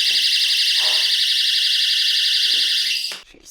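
A Totally Spies lipstick spy gadget blares a loud, shrill, continuous electronic alarm tone for about three seconds before it cuts off abruptly, with faint breathy sounds underneath.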